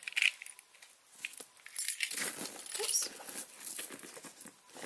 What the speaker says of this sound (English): I have my keys on the key fob here.